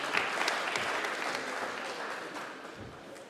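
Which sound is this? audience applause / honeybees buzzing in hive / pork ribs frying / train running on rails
audience applause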